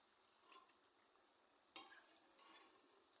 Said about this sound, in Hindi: इस तरह से गोल्डन होने तक इसका हम फ्राई कर लेंगे।